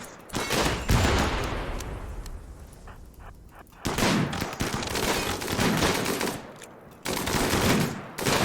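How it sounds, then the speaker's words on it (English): Gunfire in the RimWorld video game: dense bursts of rapid shots and fusillades crackle loudly across the whole stretch, with brief lulls before fresh volleys erupt. "Now we're still firing on them."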